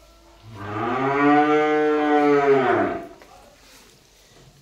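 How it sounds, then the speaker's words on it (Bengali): A Sahiwal calf, a few days old, moos once, a long, loud, drawn-out call lasting a few seconds, close by, then fades into quiet background noise. "ব্রাকের শাইওয়াল বাছুর।"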